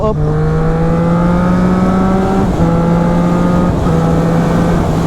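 A Triumph Street Triple 660S motorcycle engine pulls hard while overtaking, a loud, steady droning note rising slightly in pitch with one brief gear-change dip, heard close up over wind noise.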